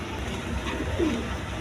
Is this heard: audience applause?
no